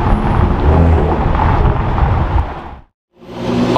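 A yellow Toyota Supra at a car meet drives past loudly in a broad engine-and-tire rush lasting about three seconds, dropping abruptly to silence before another vehicle's noise swells back in.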